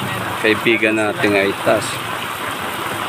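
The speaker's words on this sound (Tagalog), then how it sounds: "Lakas-lakas ng ulan ha. As in super yan ha." Heavy rain pours in a steady wash over a seaside fishing spot in Olongapo, Zambales, heard as a constant hiss beneath someone talking.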